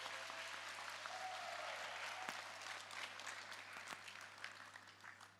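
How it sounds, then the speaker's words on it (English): A theatre workshop group clapping together, sustained applause that holds steady and then gradually thins out toward the end. "Okay, you can clap for yourselves."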